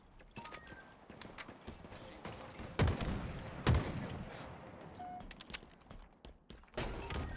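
Bursts of gunfire from the video game Halo Infinite crackle in quick volleys with a couple of heavier punchy shots, fairly quiet and mixed with game noise.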